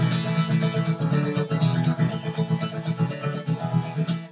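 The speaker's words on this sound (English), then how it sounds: "If I did straight 8th notes, it would sound like this." Strummed acoustic guitar in steady straight eighth notes, a busy, even chordal rhythm played up close with no talking.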